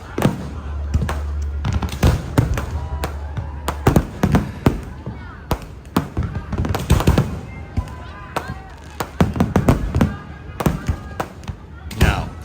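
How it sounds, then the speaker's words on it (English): New Year's Eve fireworks over Koh Samui, Thailand, pop and crackle in rapid irregular bursts at a distance, with people talking over the display. "they had some awesome fireworks going off there in the distance"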